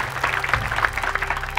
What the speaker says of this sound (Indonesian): tepuk tangan dong buat beliau.